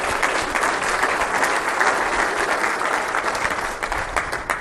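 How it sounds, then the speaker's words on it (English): Sustained audience applause fills a room at a morning talk, a dense, steady wash of many hands clapping at once with no voices standing out. "I'd like to also give all of them a big round of applause here this morning."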